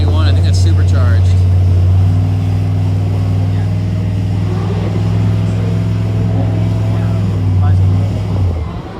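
Deep, steady engine rumble from vehicles at a drag strip as an SRT Hemi Jeep Wrangler stages against a supercharged black Z71 truck, a loud low drone that holds and then fades, with people talking over it.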